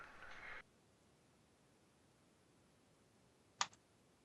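A single sharp computer mouse click sounds close by after a short burst of noise, otherwise near silence with no talking.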